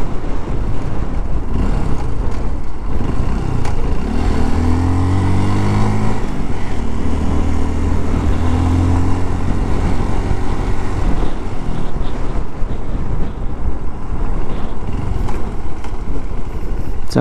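A Honda CRF 150L motorcycle, new and still in break-in, climbs steadily uphill off-road with its engine droning loud and close, holding a continuous strained note that rises and falls slightly over the ride.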